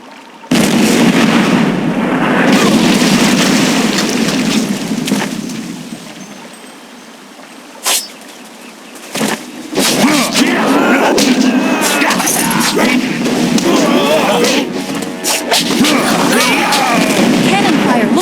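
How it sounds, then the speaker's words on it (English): Cannon fire booms in the Jade Empire Special Edition video game, heavy blasts and rumbling explosions over a dense roar of battle noise, loud and continuous with a lull midway before the barrage resumes. "Cannon fire, look out!"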